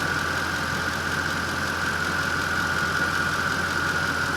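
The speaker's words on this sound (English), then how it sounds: "Pulleys are nice and quiet. The engine is nice and quiet." A 2005 Ford F150 engine idles steadily and quietly, a constant close hum with a smooth even drone and no talk over it.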